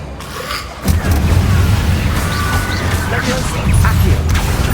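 A burst of fire-spell blasts in Hogwarts Legacy, fought amid swarms of Inferi: a loud booming onset followed by sustained crackling, roaring rumble that continues throughout, with game noise layered on top.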